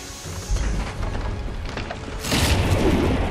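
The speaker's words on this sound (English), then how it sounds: "Radiant's bottom tower has fallen." A tower collapses in a Dota 2 match, a deep rumbling boom with crumbling debris that swells louder near the end, heard over a steady game-audio background.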